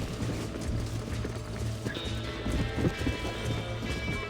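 Horse hooves clop in a steady running rhythm in the video game Red Dead Redemption, mixed with mechanical clicking and game ambience at moderate volume.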